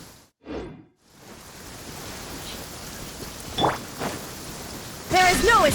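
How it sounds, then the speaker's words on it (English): Rain falling in the video game Genshin Impact, a steady hissing wash broken by a short gap near the start, with a brief chime and a few soft knocks later and a bright chirping sound near the end. "Rain? My hair and feathers are gonna get soaked."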